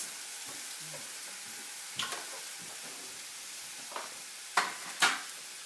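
Kale stir fry sizzles in a pan with a soft, steady frying hiss, broken by several sharp scraping clatters of stirring toward the end.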